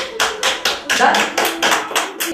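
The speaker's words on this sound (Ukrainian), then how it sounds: "своими аплодисментами говорим вам всем спасибо" Rhythmic clapping of a few people, about eight even claps in a steady beat, close and fairly loud, with a voice briefly in the middle.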